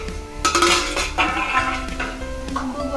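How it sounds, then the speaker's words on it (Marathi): A metal lid clanks and scrapes off a cooking pot of carrot halwa, several close, bright clinks and knocks in quick succession over a low background hum. "आता आपण हे झाकण काढून घेऊया।"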